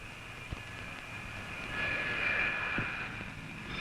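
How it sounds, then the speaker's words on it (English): Blackburn Buccaneer Navy strike jet aircraft on a carrier flight deck, a steady roaring whine with a rising high-pitched engine tone near the middle, fairly distant, with a couple of brief thumps and no talking. "This is Buccaneer, the Navy's most modern strike aircraft"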